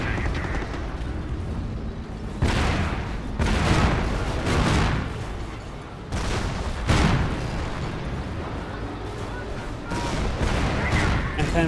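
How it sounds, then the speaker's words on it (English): Pershing tank cannon fire in the Company of Heroes battle game, heavy booming shots and explosions repeating every second or two over continuous battlefield rumble. "Pershing firing away"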